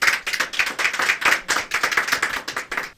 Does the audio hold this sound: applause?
yes